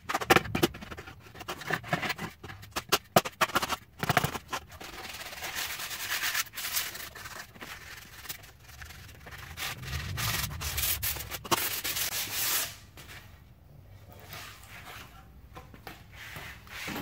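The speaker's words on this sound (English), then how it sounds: "throw it on the sidewalk, rub it around" A reclaimed-wood saloon sign is scraped and rubbed around on a concrete sidewalk, giving a steady gritty rasping that runs for a long stretch, with a few sharper knocks near the start.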